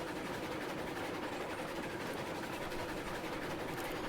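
Train in the Railroads Online video game rolls along a winding track with a steady, dense rumble and rhythmic clatter that stays constant and fairly loud throughout, with no talking.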